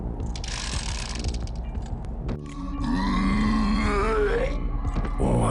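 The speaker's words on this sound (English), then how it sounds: "I really like the weapon idle animations in this game, our man fidgeting with his itchy trigger fingers in between the bloodshed." Weapon idle fidget animation sounds from the 2004 Western shooter Dead Man's Hand, a run of small mechanical clicks and ratcheting metal clacks from a gun being handled, close and fairly quiet, followed by a whining, wavering tonal noise.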